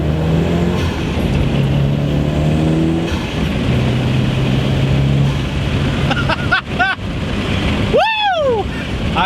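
A Mitsubishi Evo fitted with upgraded cams accelerates hard from second gear, its engine note loud and sustained with rising pitch through the pull, ending in sharp whining sweeps near the end.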